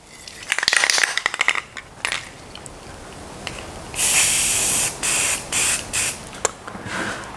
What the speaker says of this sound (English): Let's give it a quick rattle can spray job to stay with the program here.